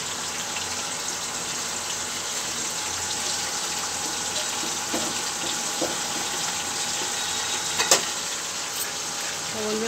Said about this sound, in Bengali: আর এখানে মাছ ভাজতে দিয়েছি, আর এখানে মাছ ভাজবো এগুলো।